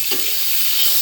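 Onions frying in a pan give off a steady, close sizzling hiss for Assamese banana flower and pork curry, even and unbroken with no talk over it.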